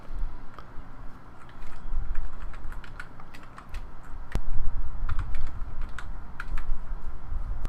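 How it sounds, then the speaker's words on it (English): Typing on a computer keyboard, a run of quick light key clicks in irregular bursts, fairly close, over a low background hum. "I'll click and start some typing."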